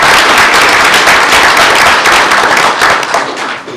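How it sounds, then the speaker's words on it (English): Loud, dense applause from an audience at a school board meeting as a graduating student is honored, continuous clapping close to the microphone throughout. "Let's give Riley a round of applause."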